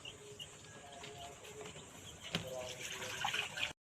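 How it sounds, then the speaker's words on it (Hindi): Spiced gram flour (besan) water poured into a cooking pot, a soft continuous watery splash and trickle that builds toward the end, fairly close and moderately quiet. "जो बेसन का पानी है उसी को डालेंगे"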